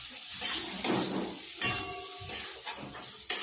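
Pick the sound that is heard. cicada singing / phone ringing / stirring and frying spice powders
stirring and frying spice powders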